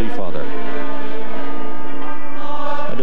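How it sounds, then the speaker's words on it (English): Church bells ring out loud and sustained at the shrines, their rich overlapping tones blending into one continuous peal for the whole stretch, with a voice faintly under them. "The bells of the shrines are being rung"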